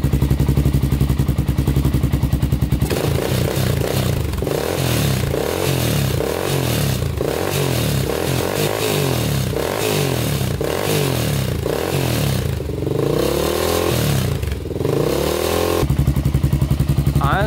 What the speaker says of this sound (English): I'll keep on revving it out a little bit.